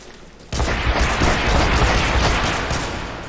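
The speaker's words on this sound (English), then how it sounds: "getting shot at." Gunfire in the video game Renegade X bursts in suddenly after a brief quiet, a loud, dense barrage of rapid shots and booms that keeps going, then eases slightly toward the end.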